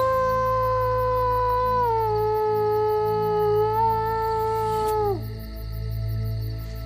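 A man howls through cupped voice in dense foliage, imitating a wolf to call rare red wolves; one long sustained howl holds steady, dips, then breaks off near the end, loud and close over a background hum.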